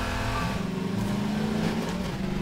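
Car engine in Garry's Mod revving steadily with a loud, sustained low drone and shifting pitch, close and continuous throughout with no talk over it.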